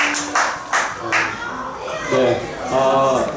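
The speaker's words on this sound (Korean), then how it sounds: "우리 다 같이 박수 한번 크게 치고" Congregation at the opening of a church worship service clapping together, a few loud broadband bursts early on, then a voice speaking over the fading applause.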